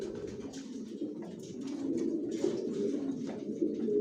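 Johnson-line long-distance racing pigeons cooing in a loft, a steady low murmur of several birds overlapping, close and continuous with no voices.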